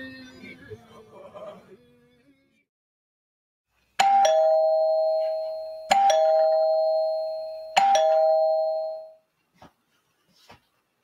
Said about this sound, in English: It all started one morning when the man was awakened by three rings from his doorbell.